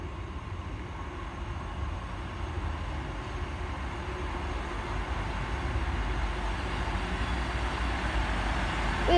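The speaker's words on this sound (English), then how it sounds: "Arriving now is the 1910 Great Western Railway service to St." A Great Western Railway train pulling into St Austell station at night gives a steady low rumble and hum that grows slightly louder as it nears, with no voices.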